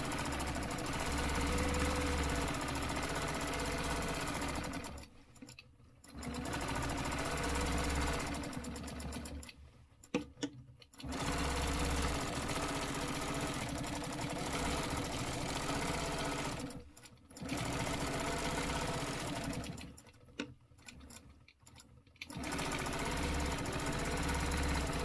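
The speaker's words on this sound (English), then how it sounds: "hope I don't run out of bobbin thread because I can hear it near the end" A sewing machine stitches steadily, with its bobbin thread running low. The motor hums and the needle chatters in long continuous runs, broken by several brief pauses where the stitching stops and restarts.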